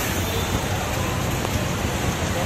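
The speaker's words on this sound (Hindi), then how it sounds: "बारिश हो रहा है," Rain falls steadily outdoors, a dense, even hiss that holds at the same level throughout with no breaks.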